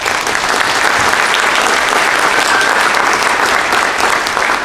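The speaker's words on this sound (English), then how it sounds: "Give them a round of applause, please." A crowd at a Chamber of Commerce valor awards ceremony applauds fire chiefs and committee members. The clapping is loud, dense and continuous, holding a steady level from start to finish with no voices over it.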